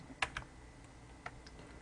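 Keys pressed on a computer keyboard during tax accounting software work, a few quiet sharp taps with a faint click later, close and isolated with no talk.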